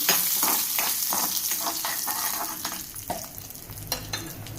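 Dried red chilies and mustard seeds crackle and sizzle in hot oil for a sambar tempering, a close, dense spatter with scattered sharp pops running throughout.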